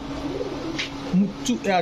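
A red Indian Kakji female pigeon coos in short low bursts, close by, with a voice talking over and between the calls.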